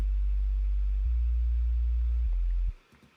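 A simple sustained sub bass synth from Logic's Sculpture-style Silent 1 preset holds low, deep notes for about two and a half seconds, shifting pitch twice before cutting off abruptly into quiet.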